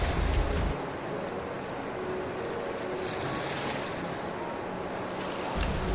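The River Tons flowing past its bank, a steady, broad rush of moving water heard close and continuous, with some wind buffeting the microphone.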